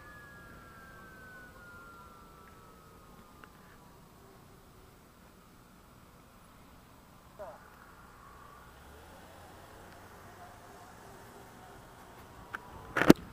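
A high, siren-like electric whine from a 2015 Zero FX electric motorcycle drivetrain glides slowly downward at low volume, followed by quieter tonal sweeps and a few faint clicks near the end.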